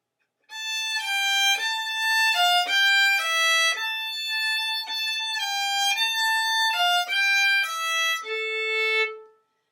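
Solo violin plays measure 41 of a piece at real tempo: a clear, close run of about a dozen distinct bowed notes in a steady rhythm, ending on a held lower note, with no talk.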